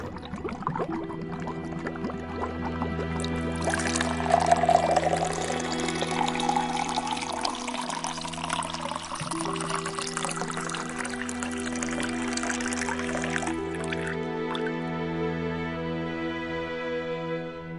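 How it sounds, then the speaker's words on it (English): Liquid pours into a cauldron in a steady splashing stream for several seconds over a low droning background, then tapers off. "Pour the liquid you brought into the cauldron and sit."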